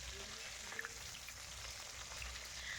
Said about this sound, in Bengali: এইভাবেই একটু লাল করে মাছগুলো ভেজে নিতে হবে।